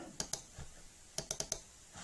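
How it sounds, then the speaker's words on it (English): A computer mouse double-clicks: a quick pair of crisp, close clicks, then a faster cluster of four, all alone without speech. "So let's just double click on that."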